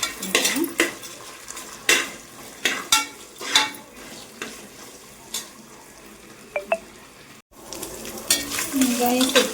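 Ginger garlic paste and onions stirred in a pan while cooking chicken biryani, repeated metal scrapes and clanks of a spoon over a low sizzle, loud and close.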